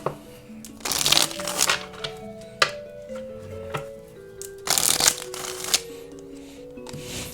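Oracle cards are shuffled by hand in bursts of riffling and flicking, two longer shuffles with softer card taps between them, close and fairly quiet.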